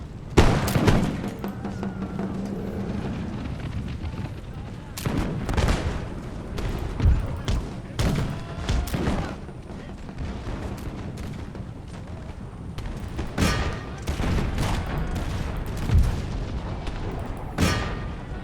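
Musket volleys from camel gunners crackle and boom through a battle in the Imperial Splendour mod, dense gunfire and blasts rolling continuously with distant battle din underneath.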